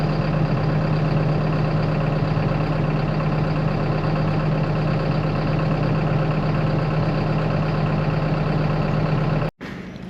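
A tractor engine running steadily while the steering wheel is turned to bleed air from the hydraulic system, a continuous close idling hum with a strong low tone that cuts off abruptly near the end.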